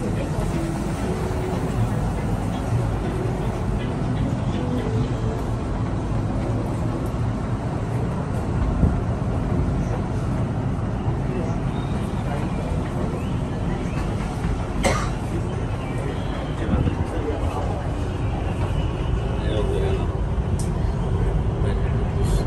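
A driverless metro train in Kuala Lumpur carries its passengers with a continuous low rumble and hum of wheels and motors, steady throughout. A voice talks over it.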